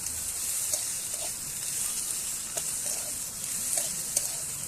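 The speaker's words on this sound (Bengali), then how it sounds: "নেড়ে চেড়ে নিলাম আলু, পেঁয়াজ, বেগুন, লঙ্কা সব কিছু দিয়ে" Potato, onion, eggplant and green chili frying in a pan with ginger-garlic paste, a bright steady sizzle broken by soft periodic stirring scrapes, close up, with no talking.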